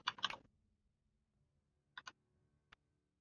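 Light-up keyboard keys pressed in a few separate clicks: a quick cluster of presses at the start, then a double click and one last single tap, all faint and crisp against near silence.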